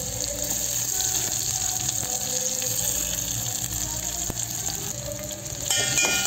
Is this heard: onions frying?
yes